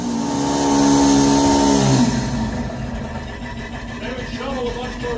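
Air motor in an underground coal mine hauling a coal bucket by cable, a loud continuous mechanical whine and rumble that drops in pitch and settles into a steady rough drone.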